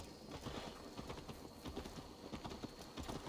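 A horse's hooves clip-clop in a quick, steady rhythm inside Assassin's Creed Valhalla, faint and blended with game ambience, with no talk over them.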